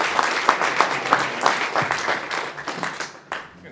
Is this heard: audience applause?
yes